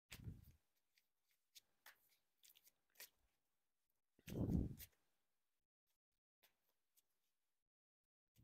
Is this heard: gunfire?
no